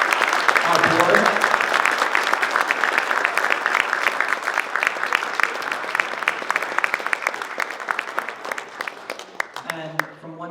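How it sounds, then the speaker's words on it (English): Sustained audience applause fills the hall at the 14th annual LA WebFest award show, a dense, loud wash of many hands that thins toward the end as a voice briefly comes in. "I want to give another big round of applause to all of our creators, our presenters,"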